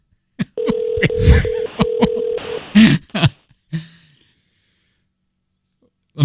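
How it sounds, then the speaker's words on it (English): Several steady dialing tones from a pay phone keypad, held in short bursts with brief gaps, followed by a few breaths and snorts, then quiet. "Say you're calling from your rotary dial."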